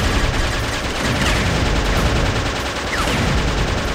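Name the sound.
upgraded gun firing in video game Jets'n'Guns Gold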